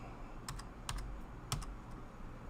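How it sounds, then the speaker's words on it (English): Fast typing on a computer keyboard: a few quick bursts of sharp key clicks with gaps between them, close up over a quiet room hum. "Typing too damn fast."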